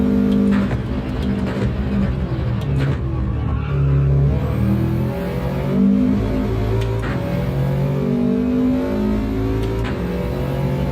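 A racing car's engine drones and revs continuously in a racing video game, a Rex car on hard tyres in a ten-lap daily race, steady and loud with shifting pitch and no talk over it.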